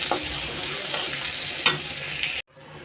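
Onion and green chilli frying in a pan for a baim fish dish, a dense, even sizzle close by with a couple of faint stirring scrapes, cutting off abruptly near the end into a quieter hiss.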